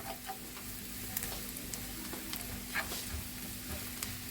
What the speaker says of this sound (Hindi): अब हम इसको अच्छी तरह भून लेंगे।